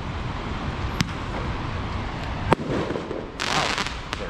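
Fireworks burst at night on a street in Denpasar, Indonesia, with sharp loud cracks near 1, 2.5 and 4 seconds over a steady roar of traffic and wind, plus a crackling spray toward the end.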